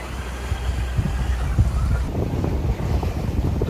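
Wind buffeting a sailboat off Sai Kung, Hong Kong, a loud continuous rush of breeze and microphone wind noise with waves washing beneath it, no voices.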